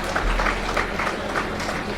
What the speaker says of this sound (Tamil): நான் இந்த கைத்தட்டுறது இருக்குது பாருங்க, அதுல ஒரு ஆபத்து இருக்குதுங்க